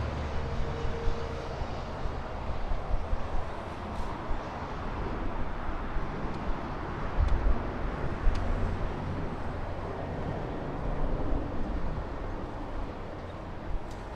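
Lufthansa flight 452 airliner at Los Angeles International Airport, a steady broadband jet roar rumbling continuously throughout, moderately distant with no talk.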